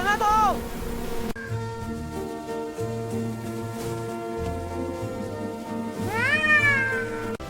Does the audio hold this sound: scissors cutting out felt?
no